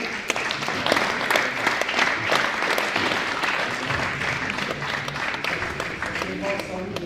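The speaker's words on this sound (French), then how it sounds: "je souhaiterais de votre part quelques applaudissements pour l'organisation" Crowd applause fills the hall at a padel tournament final, steady dense clapping from a sizeable audience throughout, with a few voices and cheers mixed in.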